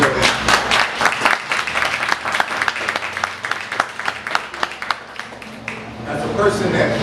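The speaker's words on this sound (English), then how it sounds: "let's clap it up for Kai" A crowd at an opening event bursts into loud, close applause, a thick flurry of claps that thins toward the end, with voices mixed in.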